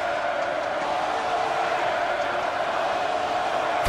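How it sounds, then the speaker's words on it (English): Arena crowd at a Golden State Warriors vs Memphis Grizzlies NBA 2K16 game late in the fourth quarter, a steady broad roar of many voices with a chanting tone holding evenly throughout, no clear breaks. "take a listen into the crowd as they break out in a Warriors chant with 3 minutes left in the fourth quarter"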